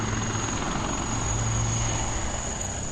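Armed Rudra and Dhruv military helicopters fly during an air force exercise, their rotors and engines producing a loud, steady, close drone with a low throbbing beat that continues unbroken throughout.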